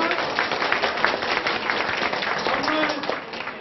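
A crowd at a political rally for a mayoral candidate breaks into applause, dense clapping running steadily throughout with some voices mixed in.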